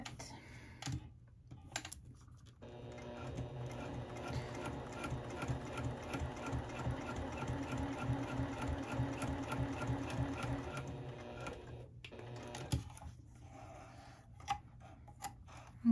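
A sewing machine top stitches fabric, running steadily for about ten seconds with a dense rapid needle rhythm, then brief pauses and short bursts near the end; close and clear with no talking.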